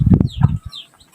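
Several quick, throaty clucks from chickens close by in a village chicken coop, a short burst of busy fowl calls that fades out, with no talking.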